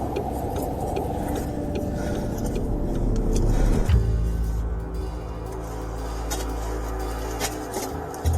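A stolen police car's engine idles and hums steadily, swelling briefly as if revving before settling back to a lower drone, with no voices heard.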